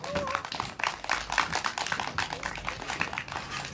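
Scattered, uneven hand clapping from an audience greeting a performer onstage at a candlelight protest rally in Seongju, fairly close and steady across the clip with crowd murmur underneath.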